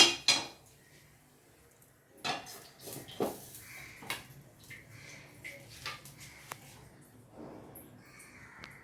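A lid clinks onto a pan of vegetable uttappam cooking on the stove. It makes a few sharp metallic knocks and rattles spread apart, with quiet pauses between them.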